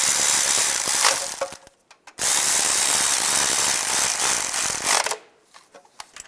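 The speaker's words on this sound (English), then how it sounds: "And tighten these down." A hand ratchet tightens the bolts on the rear main seal cover of a 2007-2013 Chevy Silverado, two runs of dense, fast clicking close up, with a short pause between them and a few sparse clicks at the end.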